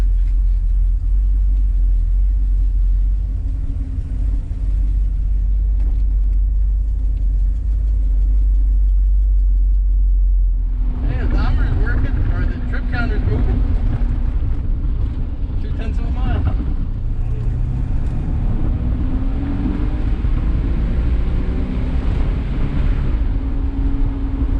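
A 1985 Porsche 928 on a shakedown cruise, with a steady low engine rumble that swells sharply midway as the car accelerates, rising in pitch under the driver's voice.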